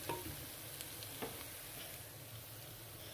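Tomato and chili are stirred into onions frying in a pan for an aloo keema dish. A soft, steady sizzle carries quiet scraping strokes of the spoon, and no one speaks.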